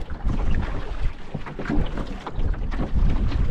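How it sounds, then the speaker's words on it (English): Gusty wind buffets the microphone while a canoe or kayak paddles on Little Tupper Lake, a continuous rumbling roar that swells and eases, with faint water sounds underneath and no talking. "Of course, the wind had to pick up again."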